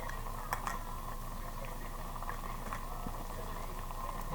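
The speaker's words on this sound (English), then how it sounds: "turn that heat down just a little bit, and let that sauce reduce" Sauce for shrimp and grits simmers and reduces in a pan over lowered heat, a steady soft bubbling hiss with faint pops and occasional light clicks, no talking.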